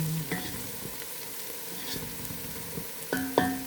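Shallots frying in a pan for a meat lompia filling, a continuous soft sizzle with occasional stirring scrapes and clinks of a utensil, fairly quiet and close.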